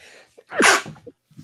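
A person sneezes once, a sharp, close burst with a brief intake just before, followed by quiet.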